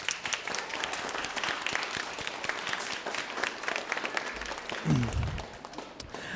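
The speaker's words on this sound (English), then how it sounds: "let's give our parents a round of applause." Audience applause at a middle school band concert, a steady wash of many hands clapping throughout, with a brief low voice-like sound near the end.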